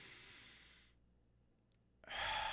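A deep breath in followed by a long, breathy exhale, close and fairly loud, with a quiet pause between the two.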